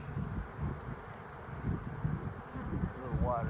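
Honeybee swarm buzzing and fanning outdoors, a dense low hum that holds steady and continuous, with some wind noise and faint voices underneath.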